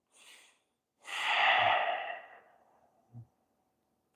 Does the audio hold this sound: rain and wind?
no